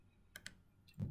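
Faint, sharp mouse clicks, two close together and then a third, tap out in a quiet room.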